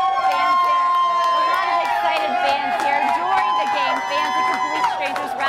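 Basketball fans at a bar cheer and shout together in a loud, lively mix of many voices, with excited yells rising and falling over a constant crowd din.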